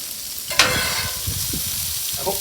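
Steak and onions frying in olive oil in a pan, a steady bright sizzle with a sharp clatter of stirring early on and soft scraping throughout.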